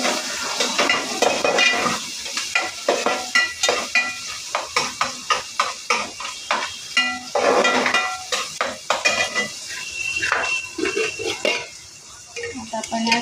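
Chopped green onion stir-fried in a pan, with a utensil scraping and clattering in steady rhythmic strokes over a continuous close sizzle.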